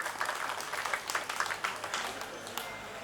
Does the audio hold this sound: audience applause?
yes